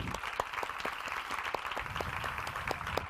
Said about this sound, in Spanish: nos regalamos un aplauso y lo disfrutamos